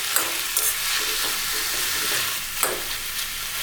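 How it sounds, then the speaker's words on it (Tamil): Tomatoes and grated coconut sautéing in a pan for South Indian tomato chutney make a dense, continuous sizzle with a few soft scraping stirs, close and fairly loud, with no voices. "ரெண்டு 3 நிமிஷம் வதக்கி விடலாம்."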